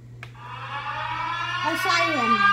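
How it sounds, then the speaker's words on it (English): A synthetic siren tone from a Numark DJ controller's sampler rises in pitch, growing louder and sweeping upward over a couple of seconds, with a steady low hum beneath. "A siren. It's loudest."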